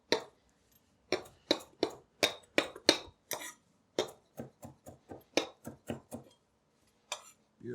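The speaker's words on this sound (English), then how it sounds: "Can give the parsley a little quick chop, just to help with the breaking down." A knife quickly chops fresh parsley on a board: two bursts of sharp, crisp strikes, each in a fast, even rhythm, close and clear, with short pauses between them and no talking.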